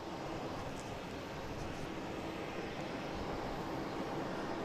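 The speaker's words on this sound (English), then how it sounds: "Right now we have Alaskan Airlines heading to Portland." Alaska Airlines airliner departing Boston Logan International Airport, a steady broad jet roar held at even loudness throughout with no voices, heard from a distance on the airfield.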